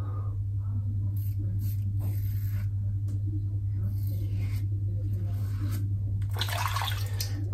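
Tap water runs steadily at a sink during a cold water shave with a Carve razor, a constant close stream with faint clinks and rustles over it and a brighter splashing burst near the end.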